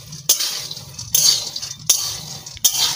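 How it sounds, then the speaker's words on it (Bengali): A spoon scrapes and stirs inside a kadai as peanuts finish frying, with four distinct clinking strokes at a steady rhythm over a low background hum, close by and moderately loud. "একটু কড়াইতে নাড়াই নিচ্ছি।"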